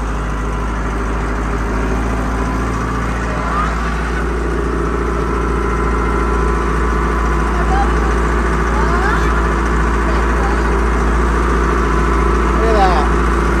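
A tractor engine runs steadily with a Case IH 3309 discbine mower during first-cutting hay mowing, a loud constant low drone throughout while people talk over it.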